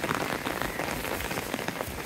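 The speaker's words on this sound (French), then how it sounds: "Et il pleut tellement." Heavy rain pours down in a nature reserve, a dense steady patter of drops hitting surfaces close by, fairly quiet overall and continuous with no voices.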